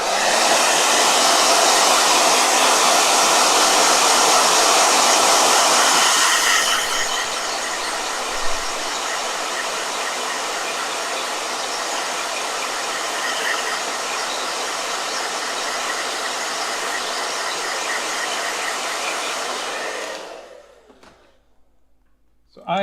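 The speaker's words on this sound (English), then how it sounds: "Blow dryer." A blow dryer roars loudly and continuously while drying a watercolor travel journal sketch. Its pitch and strength drop slightly after a few seconds, and it runs for about twenty seconds before switching off.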